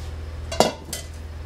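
Stock is stirred into a dry dinner mixture in a pot: a single clear metal scrape and clink of the utensil against the pot, then a softer second knock, close and alone in a quiet kitchen.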